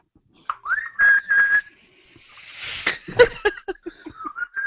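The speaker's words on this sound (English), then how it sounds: "Give a little whistle." A few short whistled notes are followed by breathy laughter and some scattered vocal sounds, fairly faint.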